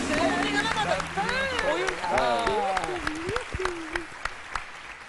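Studio audience applause on a Turkish talk show, clapping beneath a man's animated, sing-song talking and laughter that dominate the clip.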